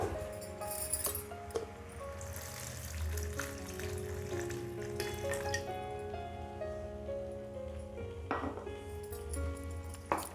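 Water poured into a pot of Odia fish curry (macha mahura) as it cooks, a steady close wash of pouring and light bubbling with a few small clinks, set against a sustained tonal background throughout.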